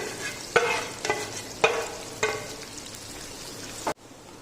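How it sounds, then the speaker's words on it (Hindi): Onions softening in hot oil in a pan, a steady close sizzle punctuated by several stirring scrapes at roughly even intervals before cutting off abruptly. "अब इसी ऑयल में हम लोग जो हमने प्याज लिए थे उनको फ्राई करेंगे।"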